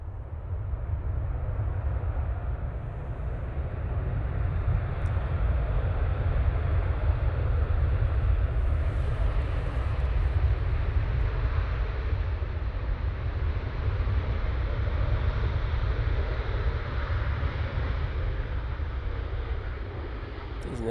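A Qatar Airways Boeing 787-9 Dreamliner arrives at Manchester airport, a steady, broad low engine roar that holds at a constant level throughout with no voices.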